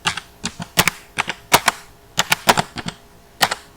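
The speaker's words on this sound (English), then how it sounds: "just type select carbon" A computer keyboard is typed on in short bursts of sharp, loud clicking keystrokes up close, irregular in rhythm with brief pauses, and no voice.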